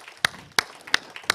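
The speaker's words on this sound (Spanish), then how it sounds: "Denle un aplauso de gratitud al Señor." A handful of sharp, evenly spaced claps, four distinct strikes, ring out quietly from a church congregation during a worship service, with no talking over them.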